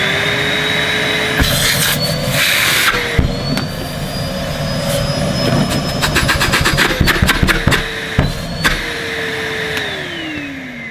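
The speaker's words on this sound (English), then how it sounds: "I hope it's not because your motor doesn't sound as it should." A Numatic vacuum cleaner motor starts up loudly and runs with a steady whining roar, joined by some clattering and knocking, and then spins down.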